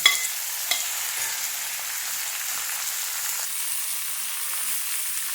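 Small shallots frying in a pan for a Kerala-style chicken dish, a steady bright sizzle with a couple of sharp stirring scrapes near the start, close and continuous without voices.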